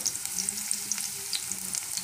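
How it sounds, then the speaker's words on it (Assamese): Green chillies and ginger-garlic paste fry in a pan, giving a steady close sizzle with light stirring clicks throughout and no voices. "সেই জলকীয়া দুটাও দি দিম আৰু এইখিনি অকণমানকৈ ভাজি ল'ম"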